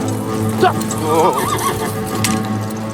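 A horse neighs loudly and nearby in one wavering whinny, with hoof clip-clop and voices in the scene around it.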